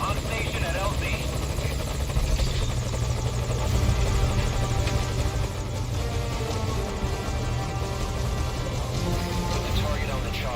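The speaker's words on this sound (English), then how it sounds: "Put the target on the chopper." Helicopter hovering at a landing zone in Metal Gear Solid V: Ground Zeroes, a dense, constant rotor thrum and engine roar filling the scene, loud and steady throughout, with game dialogue spoken over it.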